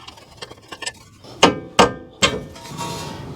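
Three heavy hammer blows ring out on a metal nut on a Toyota Tundra power steering rack, evenly spaced and loud, after a few lighter taps.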